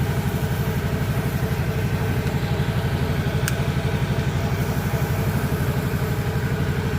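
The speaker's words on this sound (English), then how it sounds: "Just got it on low idle, just so that way the hose don't get away from me." An engine on a Comet P40 rig, its fuel tank deleted, idles low in a steady, even pulsing chug that holds unchanged throughout, fairly close and alone.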